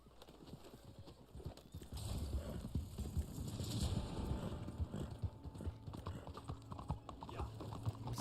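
Horse hooves clip-clop in Red Dead Online, a steady rhythm growing louder and busier midway, with a continuous low rumble underneath.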